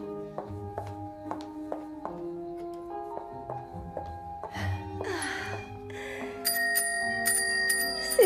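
A bicycle bell rings in a string of crisp metallic dings, then faster brighter trills toward the end, with faint breathy sounds between.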